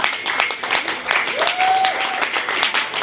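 A crowd claps steadily at a live poetry event, the applause continuing evenly with a whistle-like tone rising briefly through the middle.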